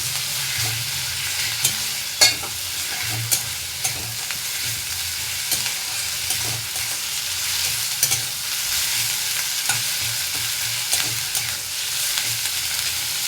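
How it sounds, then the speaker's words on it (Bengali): Onion fries in a pan with a paste of ginger, garlic and tomato while being stirred, for an egg curry. A continuous, even sizzle runs throughout, with soft spoon scrapes and clinks recurring at an irregular rhythm and no voices. "এর মধ্যে আদা রসুন আর টমেটো পেস্ট করে রেখেছিলাম, সেটা দিয়ে দেবো। দিয়ে এটাকেও একটু ভাজা ভাজা করে নেব।"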